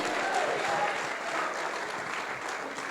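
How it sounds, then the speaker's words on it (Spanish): Church congregation applauding for the Lord, a dense, steady clatter of many hands that fills the space, with a voice faintly audible underneath. "déle un aplauso, pero de veras para el Señor"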